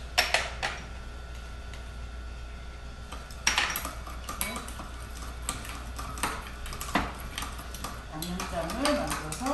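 Utensils clink and scrape against a bowl as a seasoning sauce of minced green onion, garlic, sesame salt and black pepper is mixed for Korean cooking, with sharp irregular taps close by and quiet talk underneath.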